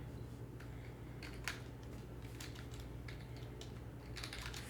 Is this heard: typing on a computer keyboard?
yes